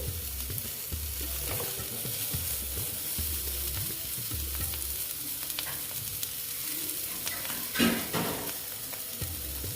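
Fried cauliflower florets being lifted out of a pan of hot oil, giving a steady close sizzle with scraping spatula strokes in a loose rhythm and a brief louder clatter near the end.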